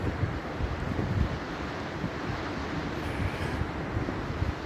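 Sea waves and wind on Bournemouth beach during a morning walk, a continuous broadband rush of surf and gusting wind across the microphone, fairly faint and steady with no talking.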